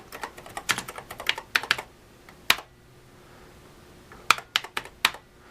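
Clicky taps on a computer keyboard come in two short bursts of quick keystrokes separated by a quiet pause, close and distinct, with no talking.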